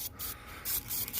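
Short hissing bursts of an aerosol spray as protectant is applied to clean truck battery terminals, several quick puffs close by and fairly quiet.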